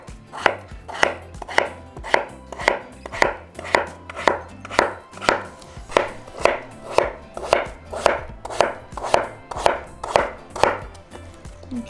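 A knife chops a potato into half-moon slices on a cutting board for steak and potatoes, about twenty sharp, evenly spaced strokes in a steady close rhythm with no talking.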